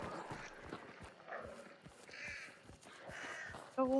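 Several crows cawing at intervals amid a rhythmic clip-clop of hooves or footsteps, moderately distant, with a brief bright tone at the end.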